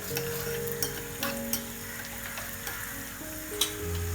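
Onions frying in a pan for a Kerala stingray fish curry, a steady close sizzle with occasional stirring clicks and scrapes, no talking.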